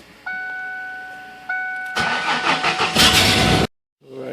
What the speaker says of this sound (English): start the car, let it run for 5 minutes.